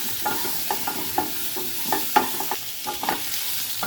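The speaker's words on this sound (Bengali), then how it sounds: "আমার পটল ভাজা হয়ে গিয়েছে" Pointed gourd (potol) pieces, coated in turmeric and salt, frying in a pan, giving a soft sizzle broken by irregular scraping stirs and light spatula taps, close and moderately quiet, with no talking.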